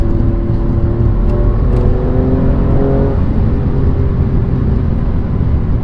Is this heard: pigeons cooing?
no